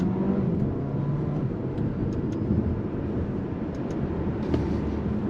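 A 2024 Alfa Romeo Tonale SUV pulling away from a dead stop under throttle, a low steady drivetrain hum and road rumble heard from inside the cabin, fairly loud and even with no clear rev climb.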